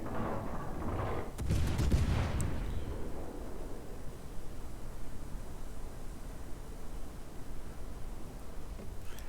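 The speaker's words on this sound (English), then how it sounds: "things are still shooting at us" Enemy warships fire in a naval warfare video game: a heavy burst of booming cannon blasts rumbles out, then settles into a steady roar of wash and hiss.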